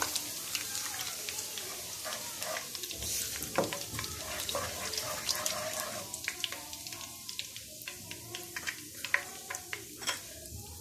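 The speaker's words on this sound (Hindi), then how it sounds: "कुछ सेकंड के लिए हम इसको फ्राई करेंगे" Garam masala sizzles in hot oil in a pan for a few seconds, a steady crackling fry with scattered pops and stirring scrapes, close and continuous with no voices.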